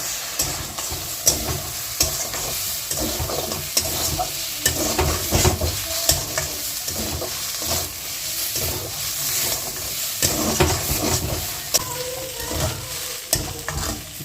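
Soybean momo filling stir-fried in a pan with ginger-garlic paste. A continuous, close sizzle is punctuated by frequent rhythmic spatula scrapes and stirs over about fourteen seconds, with no talking.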